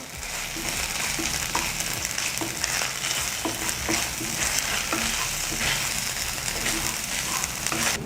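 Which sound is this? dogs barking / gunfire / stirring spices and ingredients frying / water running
stirring spices and ingredients frying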